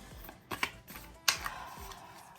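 Tarot cards are shuffled by hand in a quiet room, giving a few soft, quick riffling and tapping bursts close by, separated by short pauses.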